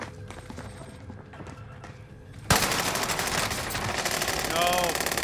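Rapid gunfire erupts in a video game battle, a dense burst of shots aimed at the player that starts suddenly after a quieter stretch and continues loud and close, with faint voices beneath.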